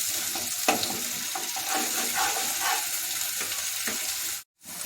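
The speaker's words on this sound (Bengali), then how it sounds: "এবার মশলাটা ভালো করে কষিয়ে নেব।" Spice paste for a black pomfret tel jhal curry sizzles steadily in hot oil in a pan, a close, continuous frying hiss with a few light spatula knocks, cutting out briefly near the end.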